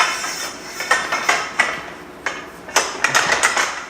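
A manual tube bender puts a 55-degree bend in steel roll cage tubing for a BMW, giving a series of sharp metallic clanks and ratchet clicks at an irregular pace, loud and close.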